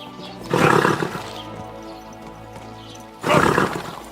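A horse in the medieval video game Kingdom Come: Deliverance II whinnies loudly twice, a few seconds apart. The two calls sit over a quieter background.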